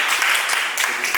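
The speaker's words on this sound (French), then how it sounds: "applaudissez très fort pour vous" Brief burst of applause from a public-speaking workshop audience, a dense wash of clapping hands that fills the short moment.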